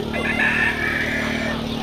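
Chickens at a bird market in Campina Grande, Paraíba, where a rooster crows and hens cluck over the steady background murmur of the market.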